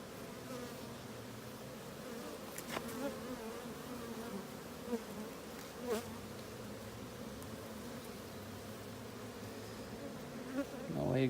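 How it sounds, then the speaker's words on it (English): Honeybees hum in a steady close drone at an open hive during a queen cage introduction, with a few louder passes and light handling knocks. "So I see a ton of bees."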